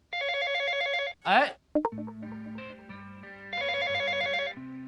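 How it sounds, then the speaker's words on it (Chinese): A telephone rings with a bright, repeating electronic trill in two bursts, broken by a short noise and a brief exclamation, with a lower tone in between, heard fairly faintly indoors. "电话。"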